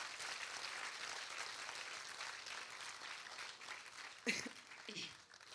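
An audience claps together at a Hindi kavi sammelan poetry recital, a dense, steady wash of applause that carries through the clip, with a couple of sharper knocks near the end.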